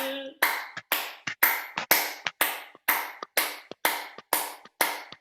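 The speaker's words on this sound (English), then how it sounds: "Number 7 is going to be nice clapping." About eleven firm, evenly spaced hand claps ring out as part of a pressure-point clapping exercise. Each sharp clap rings briefly in a quiet room, with a steady rhythm of roughly two claps per second.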